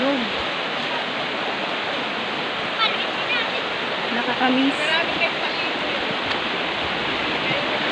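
River water rushing steadily and loudly like a small waterfall or rapids, a continuous broadband roar throughout, with people chatting and children's voices over it.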